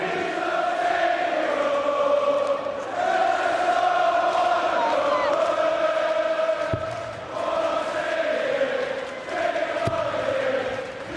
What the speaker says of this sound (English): Well, the crowd this weekend's been fantastic. The singing all today, all last night.